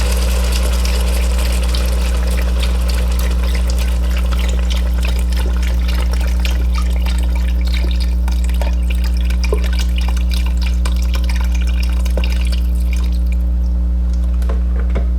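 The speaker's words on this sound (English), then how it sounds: "What I first start out with is a whole container of chicken broth" Chicken broth pours from a container into a cooking pot for red beans and rice, a continuous close liquid gurgle and splash over a steady low hum, with no talking.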